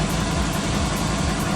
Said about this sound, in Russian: Работает двигатель.